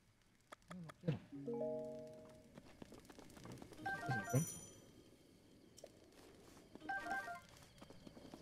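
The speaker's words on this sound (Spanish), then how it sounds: "Suena como notificaciones de Windows." In The Legend of Zelda: Breath of the Wild, a purple treasure chest plays a short chime of stepped electronic tones, followed by brief sparkly blips, while a person talks in between.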